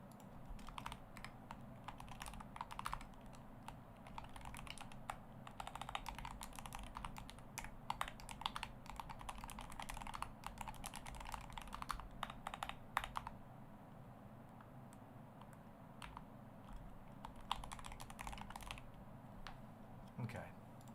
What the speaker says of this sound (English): That keyboard sounds heavenly.